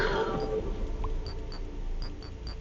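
A cat block in the video game Lucid Blocks gives a short meow near the start, followed by a few faint high beeps from the game.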